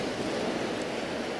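Choppy sea water sloshes against rocks on the UK coast, a steady, close broadband wash of surf with no distinct breaks, alone and without speech.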